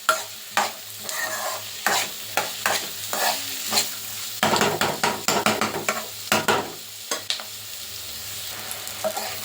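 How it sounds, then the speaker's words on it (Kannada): Onions frying in a pan with cumin, fennel and kasuri methi, a steady sizzle punctuated by many sharp spatula scrapes and knocks against the pan, close and loud. "ಈರುಳ್ಳಿ ಚೆನ್ನಾಗಿ ಫ್ರೈ ಆಗೋವರೆಗೂ ಫ್ರೈ ಮಾಡಬೇಕು"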